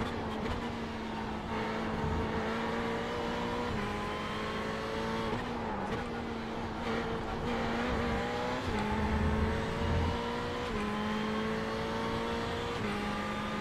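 A Ferrari GT3 race car engine in the iRacing simulator at Monza drones steadily. Its pitch climbs and then drops sharply at each gear shift, with several shifts over a continuous, moderately loud run and no voices.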